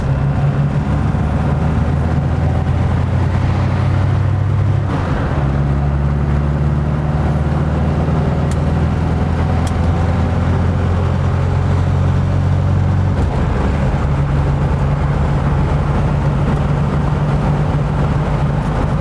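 A Jeep XJ Cherokee drives on the highway with a loud, continuous engine drone and tire roar. The engine tone shifts around five and thirteen seconds, with slight vibration throughout and no voices.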